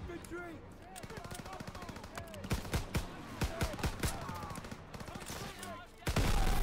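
Rapid bursts of gunfire in the World War II shooter Call of Duty: WWII, rattling machine-gun volleys and sharp single shots in a dense, continuous stretch, with a voice talking beneath the shooting and a louder burst at the end.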